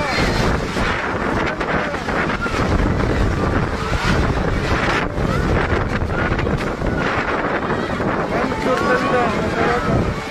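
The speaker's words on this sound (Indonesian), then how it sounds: "Angin sangat kencang, tenda-tenda masyarakat terhambur" Strong gusting wind roars loudly and continuously across the microphone as it sweeps over evacuation tents, a dense buffeting rush with voices faintly under it.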